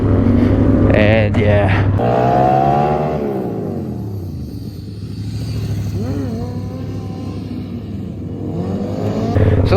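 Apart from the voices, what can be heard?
motorcycle accelerating then braking hard for a stoppie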